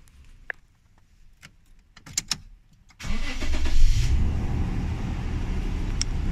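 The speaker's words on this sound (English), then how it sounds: "Vehicle starts fine." After a few faint clicks and rustles, a 2010 Toyota Hilux 4.0 V6 Raider 4x4 automatic cranks and fires, then settles into a steady, fairly loud idle rumble.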